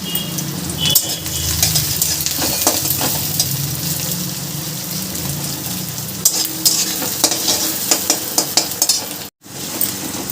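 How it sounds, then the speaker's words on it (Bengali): Chopped onion sizzles steadily in a hot pan as a utensil stirs it, with scraping clinks and a brief clatter near the end. The frying is loud and close throughout, with no voices. "আমি এখানে বড় সাইজের একটা পেঁয়াজ কুচি করে নিয়েছি, এটাকে ভালো করে লাল লাল করে ভেজে নেব।"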